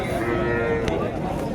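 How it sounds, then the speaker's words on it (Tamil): Cattle low at an open livestock market in Krishnagiri, Tamil Nadu, where a single sustained moo sounds close and loud over a busy background murmur. "ரன்னிங் மாடு தானே, விற்பனைக்காக வந்துருக்குது"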